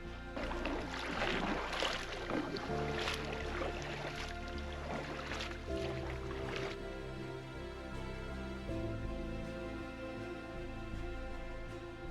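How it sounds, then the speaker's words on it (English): A boat being paddled on a lake in Lake Clark National Park, Alaska, with splashy paddle strokes over a low steady hum that fade out halfway, leaving a quieter droning background. "we gotta paddle about, I don't know, maybe 10 miles to a trail"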